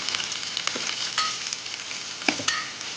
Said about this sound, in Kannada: ನಂತರ ನಾನು ಕಟ್ ಮಾಡಿ ಇಟ್ಕೊಂಡಿರೋ ಈರುಳ್ಳಿನ ಹಾಕ್ತಾ ಇದ್ದೀನಿ.